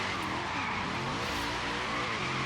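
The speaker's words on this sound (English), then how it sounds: "Into third, still spinning those tires." A widebody RC F drift build in Forza Horizon 3: wheels spinning and squealing as the car drifts, with a loud, steady tire screech layered over the rasping engine note.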